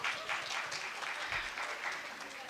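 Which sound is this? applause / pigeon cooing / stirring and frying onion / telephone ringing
applause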